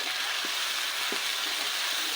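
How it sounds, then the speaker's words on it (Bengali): Onion frying in oil with chili, ginger, garlic and cumin paste, a loud unbroken sizzle close by with a couple of soft stirring knocks. "এটা এখন ভেজে নেওয়া হবে ভালো করে"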